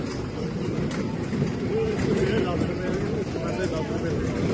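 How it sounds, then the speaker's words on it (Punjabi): A train rumbles steadily in motion, a constant low roar throughout, while people talk over it. "ਟ੍ਰੇਨ ਵੀ ਹੌਲੀ ਹੋ ਗਈ"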